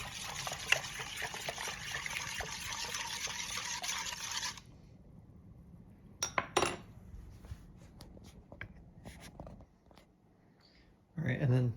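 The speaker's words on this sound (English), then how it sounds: "Stir it all up real nice." Sourdough starter for whole wheat bread is mixed with water: a steady pour of running water first, then quieter clinks and taps of a utensil stirring in a container, ending with a brief louder clatter.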